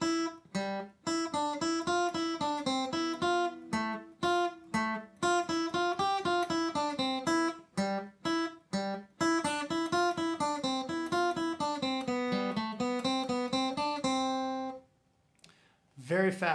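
Acoustic-toned guitar picking the first half of the tune Liberty with a pick, a quick, steady stream of picked notes in short bursts, clear and close, with a brief pause near the end.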